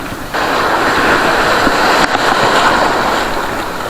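Rough, choppy sea surf washes and churns steadily around a fishing boat, a dense broadband roar with a brief dip near the start and a small jolt midway, no voices.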